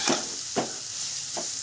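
Grated carrot for halwa being stirred in a pan, three distinct scraping strokes spaced across a short stretch, close and clear over a soft background hiss, with no talking.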